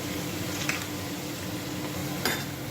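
Green gram fritters (pesara garelu) frying in oil over a medium flame, giving a steady, close, even sizzle throughout, with a couple of brief clinks of a utensil against the pan.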